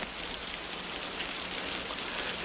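Rain falls steadily outdoors in a war drama scene, a faint, even hiss of drops on surfaces that continues without break and without voices.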